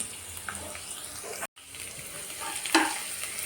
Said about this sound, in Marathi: तर तेल छान आपलं गरम झालेलं आहे यामध्ये घालायचं आपल्याला लसूण